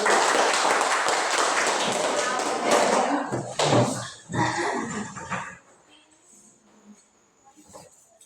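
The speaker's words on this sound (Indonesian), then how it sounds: "Oke, tepuk tangan silakan." Classroom audience claps in a loud burst of quick hand claps that thin out into a few scattered taps and thuds before fading to near quiet.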